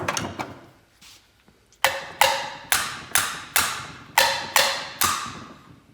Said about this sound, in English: hit the edge of the valve just to knock them loose from the keeper